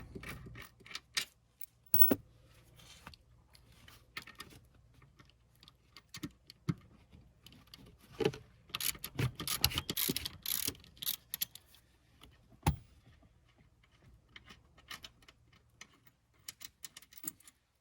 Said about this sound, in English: So these bolts we will remove, because we will not be reusing them.